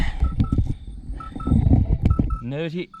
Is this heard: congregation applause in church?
no